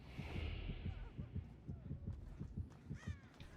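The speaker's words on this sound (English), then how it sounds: "Was that 2 heartbeats I saw for a second there?" Heartbeat warning from the Dead by Daylight horror game, a steady run of deep, throbbing double thumps repeating about every half second, with faint game ambience over them.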